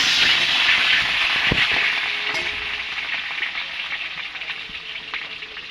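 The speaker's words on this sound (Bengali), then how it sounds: "আমি আলুটা ভেজে নেব।" Potatoes hit hot oil with a loud burst of bright sizzling, sharp pops and a spatter crack, then the hiss settles into a steadier, slightly quieter frying crackle, close by with no talk.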